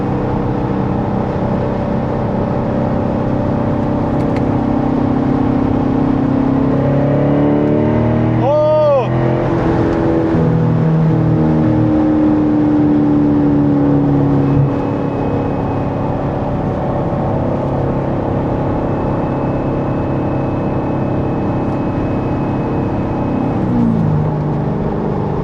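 C7 Corvette accelerating hard in third gear on a daily drive, a loud, sustained engine roar rising in pitch from the cabin, with a sharp rev sweep midway and talk over it.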